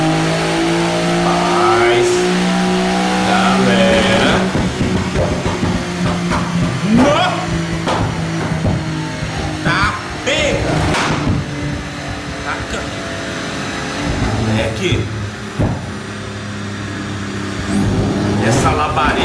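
A Porsche 911 sports car engine revs hard and then decelerates in a series of loud bursts and dropping tones, with people talking excitedly over it close by.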